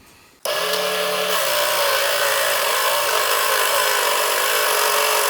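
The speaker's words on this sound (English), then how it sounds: "This bandsaw blade is so tiny that you can actually use it like a scroll saw and do very intricate detailed work." A Gryphon band saw with a very fine blade starts up with a sudden onset and runs as a steady, loud whirring drone with a shifting low hum, no voices present.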